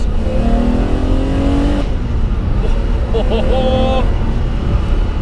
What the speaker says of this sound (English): just change it down this lovely dogleg gearbox